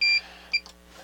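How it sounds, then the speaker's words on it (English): A Sansui G-2000 stereo receiver under repair plays a quiet, high-pitched test tone from a signal generator: two short steady beeps, then faint noise. "I'm getting a really quiet tone. That's full blast. It's just turning into distortion."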